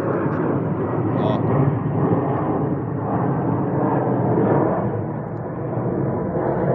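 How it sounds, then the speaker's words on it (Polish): A steady, broad roar of an airplane passing overhead fills the whole stretch, swelling and easing slightly without ever dropping away. "Samolot pogoniony"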